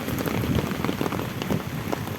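Heavy rain pours steadily in a dense, hissing wash of drops drumming on a surface, loud and close, with no voices.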